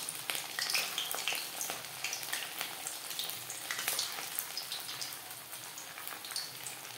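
Hot oil sizzles steadily as semolina gulab jamun fry in a kadai, a close, busy crackle of popping bubbles like light rain that stays even throughout, with no voices.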